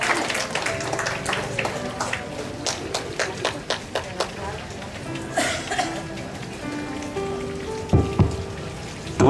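Audience applause at a church anniversary celebration for a Papuan congregation, a dense patter of hand claps rising and falling, with someone speaking over the crowd.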